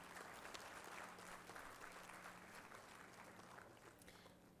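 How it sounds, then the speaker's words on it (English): An audience at an inaugural session of an AI event in Kakinada gives steady applause, a dense wash of clapping that fades slightly toward the end, with a faint hum underneath. "A big round of applause, ladies and gentlemen."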